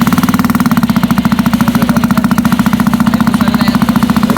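Benelli Motobi Evo 200 motorcycle idling with a replaced exhaust pipe, a loud, close, steady pulsing thump with a deep, throaty burble and even rhythm throughout.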